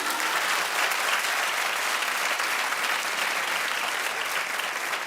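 Sustained applause from a large audience, steady dense clapping that fills the whole stretch at an even level with no pauses.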